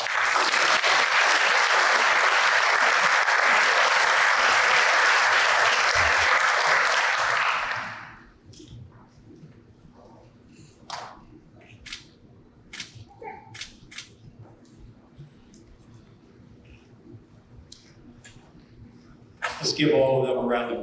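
Audience at a law enforcement academy graduation breaks into loud, sustained applause that fills the room for several seconds, then cuts off, leaving scattered faint sounds and a few claps before a voice returns.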